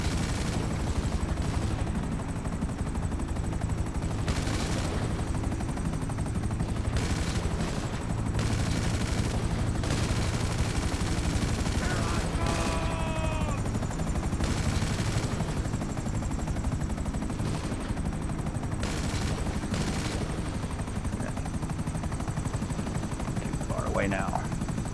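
A Buzzard helicopter in a video game hums with a constant rotor drone, broken by repeated bursts of rapid gunfire and a few explosive hits.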